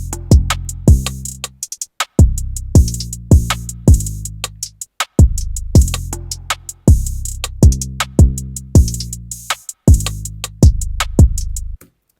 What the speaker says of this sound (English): And all the drum sounds played together, it sounds like this.